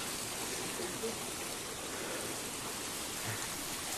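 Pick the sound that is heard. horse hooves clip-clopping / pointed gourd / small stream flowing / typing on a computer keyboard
small stream flowing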